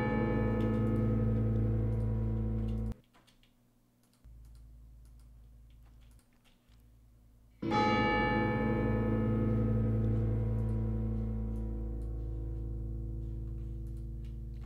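Orchestral bells being edited in a live mix of dark orchestral, choir and solo music in Pro Tools, sounding as loud sustained ringing tones with a near-silent gap in the middle before the full mix returns.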